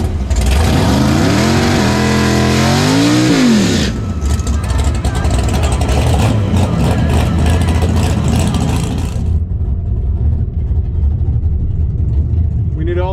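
Big block Chevrolet Malibu drag car with nitrous revving hard through several rising bursts, then launching with a sustained loud roar that fades into distance, with crowd and track noise and some talk over it.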